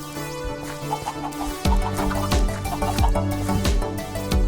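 Chickens clucking in a Minecraft-style video game, with short repeated clucks over steady game music and a few soft dripping plinks.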